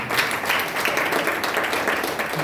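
A church congregation claps hands together in praise during a prayer fellowship, a dense, continuous patter of many palms filling the room.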